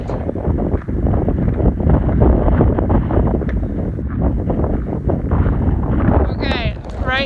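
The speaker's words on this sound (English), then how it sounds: "I'm going against wind, and it has gusts up to like 60 miles per hour." Strong gusts of wind on a hiking trail buffet the microphone with loud, continuous rumbling that surges and eases across the whole stretch, and a voice comes in briefly near the end.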